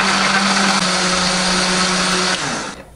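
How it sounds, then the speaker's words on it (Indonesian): An electric blender whirs loudly and steadily, grinding chilies, garlic, egg and spices into a paste, its motor tone dipping slightly near the end before cutting off. "Ini sak kuning-kuningnya, sak putih-putihnya kita blender semua jadi satu sama bumbunya"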